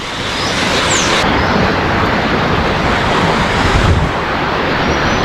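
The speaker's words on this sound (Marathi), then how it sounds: "कसली दिसते सावित्री नदी खतरनाक आहे बघा समोर केवढं पाणी आलं आहे" Floodwater of the swollen Savitri river at Poladpur, spilling into the market area, roars as a steady, loud broadband rush, with wind buffeting the microphone and no voices.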